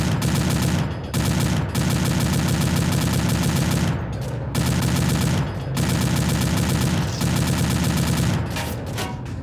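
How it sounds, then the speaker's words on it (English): Dense, continuous automatic gunfire from an Arma 2 firefight with the ACE mod, loud and close, with bursts broken by brief gaps and a heavier boom near the end. "Keep firing, keep firing."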